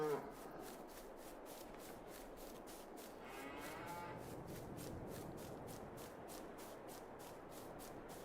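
Texas Longhorn cattle in Farming Simulator 22 give a low drawn-out moo partway through, heard faintly over a steady rubbing, shuffling background with a regular pulsing ambience.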